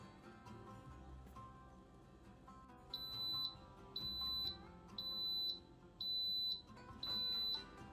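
A Russell Hobbs pressure cooker gives five loud, steady electronic beeps at an even pace, each lasting about half a second, over a faint background hum.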